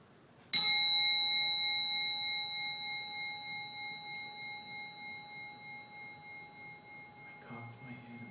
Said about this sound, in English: Finally, Grandfather rang the gong to end the meditation.